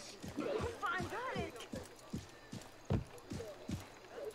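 Camel footsteps in the video game Assassin's Creed Mirage, a steady series of about a dozen thudding hoof falls at a walking pace, close and clear, with someone talking over them.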